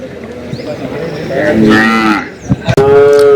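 Kangayam cattle at a busy outdoor cattle market, one loud, close, drawn-out moo rising and falling, followed by another bellow, with market noise and a few clicks around it.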